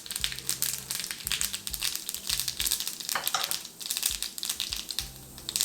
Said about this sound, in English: to the oil I'm going to add the mustard seeds, let these splutter for a few seconds